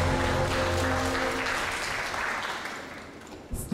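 An audience at a live show applauds in a dense burst of clapping that stays loud for a couple of seconds, then thins and fades away.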